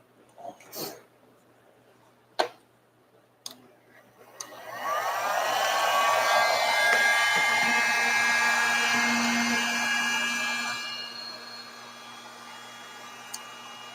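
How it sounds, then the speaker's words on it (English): A standard Harbor Freight heat gun starts after a few clicks and knocks, then runs with a rising, steady whine and hiss of hot air for several seconds before cutting off, fairly close in a quiet workshop. "we have a heat gun, standard Harbor Freight, whatever."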